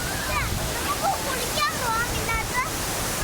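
Anayadikkuthu waterfall roars in a constant broad rush of falling water, with brief chirpy, voice-like sounds rising over the steady wash.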